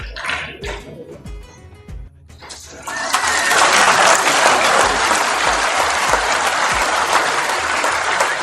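Loud applause from a large crowd at a live political program in Rajasthan, with religious leaders present. Scattered voices and claps open the clip, then dense, sustained clapping swells at about three seconds and holds steady to the end.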